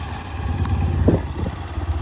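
The engine of a new Yamaha motorcycle idles steadily nearby, a low continuous rumble with a brief clatter partway through and no one speaking.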